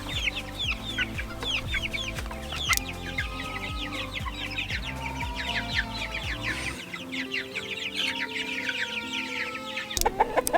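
Meat chickens out on grass cluck and chatter in a busy, overlapping chorus close by, with rapid repeated calls and brief louder squawks from the flock.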